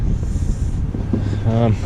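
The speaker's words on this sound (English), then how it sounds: "It's windy, make it even colder." Cold winter wind at about -20 rumbles and buffets against the microphone at a house construction site in a loud, continuous roar, with a brief voice-like tone near the end.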